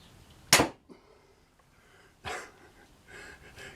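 A crossbow with a yew prod looses a heavy-pointed bolt in one sharp, loud snap, followed by quieter knocks and a second softer thud moments later.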